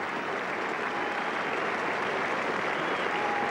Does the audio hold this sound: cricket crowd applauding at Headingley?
yes